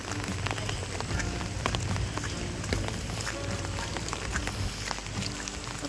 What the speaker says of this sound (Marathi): मस्त पाऊस पण आलाय आता